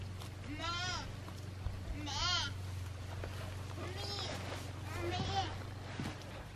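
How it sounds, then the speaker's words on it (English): Goats in a barn bleat four times in wavering calls over a constant low hum, at moderate distance. "Goats are back in the barn,"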